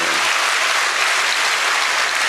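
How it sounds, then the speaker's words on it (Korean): A church congregation gives steady, dense applause for new catechumens during a Presbyterian Sunday service, a continuous wash of many hands clapping that holds even throughout, with no one speaking over it. "여러분들 박수로 한번 축하해 주시기 바랍니다"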